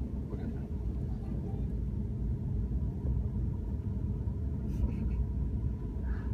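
A BMW i8 sports car is driven, heard from inside as a steady low engine and road rumble that holds evenly throughout. People talk over the drive.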